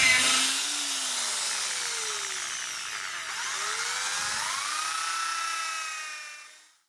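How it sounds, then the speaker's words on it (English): A battery drill with a 4mm bit bores pilot holes into macrocarpa wood, a steady high whine that rises and falls in pitch as the bit loads and frees, close and continuous before winding down. "to drill the pilot holes we'll use a 4mm drill"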